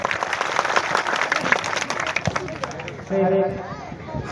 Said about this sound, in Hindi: एक जोरदार ताली बजा दे